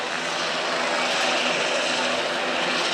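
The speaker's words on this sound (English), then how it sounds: "It's going to be hard to hear as the helicopters trying to leave." A helicopter leaving a high-school football stadium gives a steady, loud, close engine and rotor roar that drowns out the surroundings.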